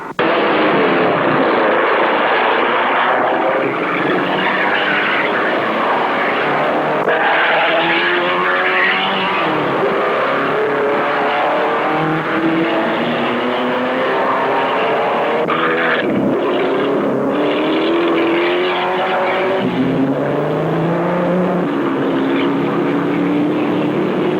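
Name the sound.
Formula Junior and modified race cars racing, 1960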